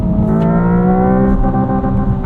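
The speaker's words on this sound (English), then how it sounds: "There's red line. It stops accelerating." A 2025 Hyundai Ioniq 5 N accelerates hard toward redline, heard from inside the cabin as a loud, steady, engine-like drone with stacked harmonic tones climbing gradually in pitch.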